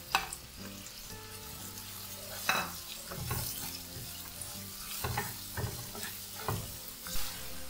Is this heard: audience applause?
no